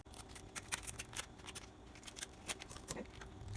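Kitchen scissors cut lengthwise down the middle of a lobster tail during seafood boil preparation, with quiet close snips and crunching clicks of shell in quick irregular succession.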